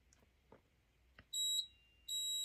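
A smoke detector triggered by fog from a fog machine shrieks in two loud, piercing high-pitched bursts after a few faint knocks, the tone cutting off briefly before sounding again.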